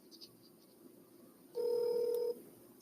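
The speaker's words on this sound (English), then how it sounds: "just waiting for the phone to dial out." A telephone dialing out: a steady electronic tone of under a second at moderate loudness after a quiet stretch, with no talk over it.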